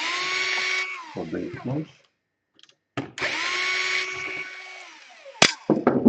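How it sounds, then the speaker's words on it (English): Unscrewing the hinge screws on a Dell Inspiron 15 5000 laptop with a power drill: two loud whirring bursts separated by a pause, each followed by clicks and handling, with someone talking between them. "unscrew those two screws for the"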